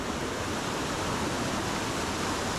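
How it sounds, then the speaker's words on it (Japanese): Rushing water from a waterfall on a mountain headwater stream, a dense, steady roar with no breaks, fairly loud and close, with no voices over it. "すげえ滝だな"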